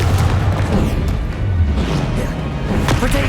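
Heavy fiery blast from the Confringo explosive spell in the Hogwarts Legacy video game, a loud booming rumble with crackling bursts and impacts that rolls continuously for a few seconds, close and dense, with no talk over it.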